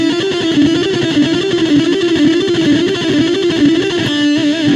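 Heavily overdriven electric guitar loops an inverted four-note lick over and over in a rapid, even stream, close and loud with no voices, finishing on a ringing sustained note.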